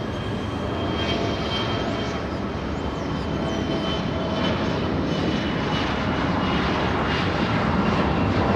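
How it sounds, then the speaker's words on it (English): A SkyWest-operated CRJ 700 regional jet at Los Angeles International Airport gives off a steady, loud broadband engine roar that holds unbroken from start to finish, with no voices over it. "We have a little CRJ operated by SkyWest Airlines"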